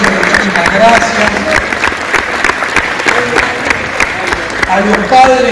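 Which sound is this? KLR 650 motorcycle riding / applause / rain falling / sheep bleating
applause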